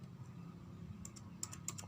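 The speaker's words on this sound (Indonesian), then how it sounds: "lalu kita ketikkan" Keystrokes on a computer keyboard entering network router configuration commands, a handful of quiet clicks clustered toward the end over a low steady hum.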